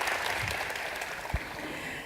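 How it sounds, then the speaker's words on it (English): A short burst of clapping from a conference audience for a stage panel at the 2018 World Economic Forum on ASEAN, steady and fairly distant, lasting about two seconds. "giving a big round of applause for our esteemed panel here on the stage"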